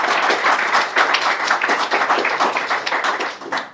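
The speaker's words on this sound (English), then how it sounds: "Let's have a round of applause." Live audience at a British Interplanetary Society event giving a round of applause, dense continuous clapping from a crowd, loud and close, tapering slightly at the end.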